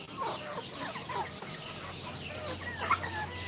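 Rhode Island chickens mixed with native birds and Buff Orpingtons cluck at close range in a farmyard, a steady scatter of short calls with one sharper squawk near the end over a low constant hum.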